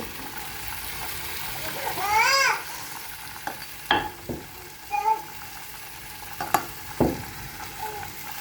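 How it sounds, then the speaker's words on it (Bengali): Dal (lentils) being fried and stirred in a pan with raisins and kewra water: a soft sizzle runs throughout, broken by scattered scraping strokes of the spoon, while a voice talks over it. "আমি এখন ডালটা বুনাই নিচ্ছি"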